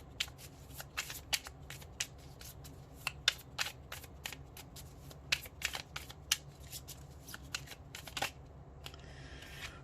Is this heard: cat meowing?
no